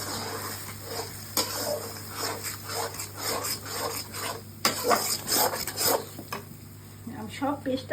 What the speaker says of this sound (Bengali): এখন আমি একটু মশলাটা কষিয়ে নেব।